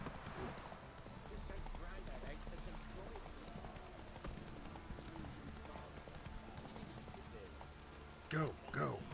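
Roach, the Witcher 3 horse, pounds along in a continuous run, hoofbeats thudding under game music and ambience, with a burst of louder clatter or a voice near the end.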